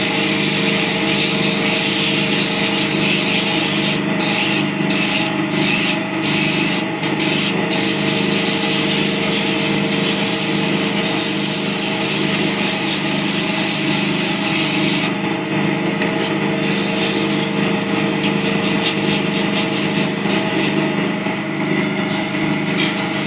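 Oak door stop spinning on a wood lathe while a tool refines its rounded profile: a steady, loud, continuous rubbing and scraping hiss with a constant motor drone, no pauses, no voices.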